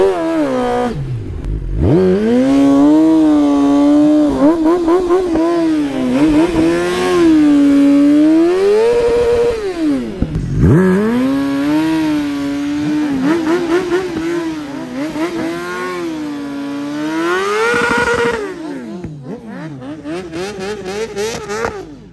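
A big sport motorcycle, one of a Ninja H2, S1000RR, GSX-R or ZX-14R lineup at a drag race, roars through a long burnout, its engine note rising and falling in repeated loud revving swells, close by.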